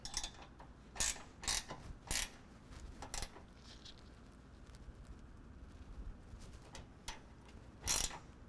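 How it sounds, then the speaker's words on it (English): A 9/16 socket wrench tightens serrated flange nuts on running board brackets of a 2025 Ram 1500, giving a handful of sharp ratcheting clicks in short bursts, fairly close, over a quiet background. "use a 9/16 and tighten down all 3 of your brackets with both of the serrated flange nuts to 20 foot-pounds"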